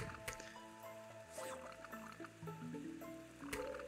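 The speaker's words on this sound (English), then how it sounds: "Oh, one of your plants just died in the water." Watery squishing and dripping splashes from a plant sinking into a pool in the Plants vs Zombies game, several soft liquid plops over busy layered game music and effects.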